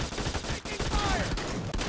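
Rapid gunfire from the mobile shooter game Modern Strike Online, dense bursts of shots crackling continuously over a busy battle mix with faint game voice prompts underneath.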